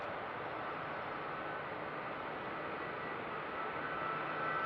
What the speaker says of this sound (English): I'm at least a mile away from that plane, and you can hear the sound.